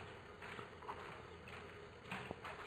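A horse's hooves shift and clop on a hard floor while it receives laser therapy, a few faint, scattered steps over quiet room noise.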